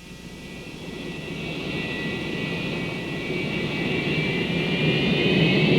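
A jet airliner roars in a Southwest Airlines radio advertisement, a steady loud whine and rumble that builds gradually in volume as if approaching or taking off, heard alone with no voices.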